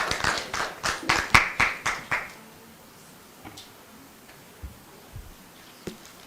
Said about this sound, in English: Let's clap for Dr. Mutumba as he makes his way here.